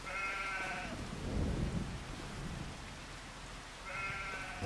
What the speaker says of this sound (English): I can put 438 sheep in here.